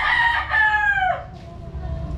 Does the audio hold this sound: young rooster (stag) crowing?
yes